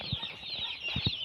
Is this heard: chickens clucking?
yes